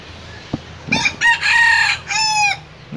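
A rooster crows close by behind a chicken and bird coop at a rural Vietnamese home, with one short call followed by two long, loud cock-a-doodle-doo phrases separated by a brief gap, and no talking.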